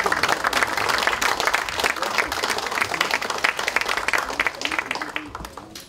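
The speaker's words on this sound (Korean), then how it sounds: "격려의 박수를 좀 보내주시고" Encouraging applause breaks out at a Democratic Party lawmakers' general meeting, a dense, loud crowd clapping that holds strongly for several seconds before tapering off at the end.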